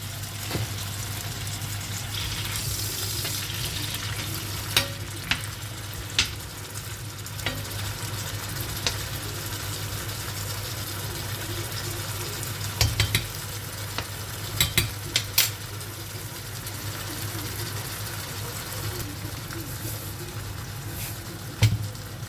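Frozen garlic frying in a pan, a steady soft sizzle with an underlying hum and occasional clicks and scrapes from a utensil, close and without speech.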